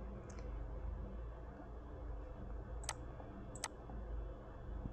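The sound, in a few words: mouse clicking in emulator app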